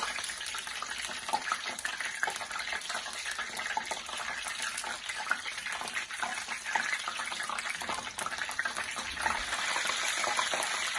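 Spring rolls deep frying in hot oil, some fresh and some cooked straight from the freezer, giving a steady, dense crackling sizzle that holds evenly throughout with small bursting pops.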